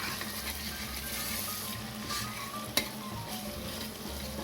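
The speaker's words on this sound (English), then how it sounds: "So giving the onions a stir." Onions fry in a pot for a yoghurt curry, giving a soft, even sizzle with quiet stirring and one brief clink of a utensil against the pot; no voices.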